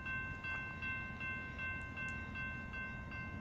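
A BNSF freight train rolls by slowly on a double-track main line, with steady rumbling and rhythmic clacking of wheels over rail joints, plus a sustained tonal whine, loud and close.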